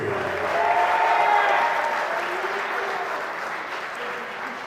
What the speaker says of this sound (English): Ladies and gentlemen, another round of applause for your 2021 Tiger Seniors